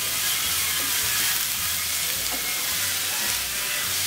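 Grated carrot fries in ghee for carrot rice kheer, with a loud, dense, continuous sizzle and hiss close up and a few soft stirring strokes underneath, with no voices.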